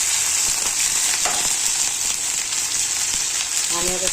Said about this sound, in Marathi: हे तेलामध्ये ना चांगली भाजून घ्यायची